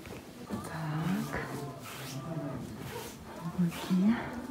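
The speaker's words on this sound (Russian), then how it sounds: "Точнее, это, скорее всего, коровы те самые, которые дерутся." Cows in the Swiss Alps near the Matterhorn low and moo several times, at moderate distance, with steady outdoor background noise throughout.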